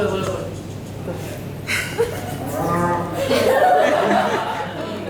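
A cow moos on a farm, a drawn-out low call rising over the middle of the clip, with people chattering and chuckling around it.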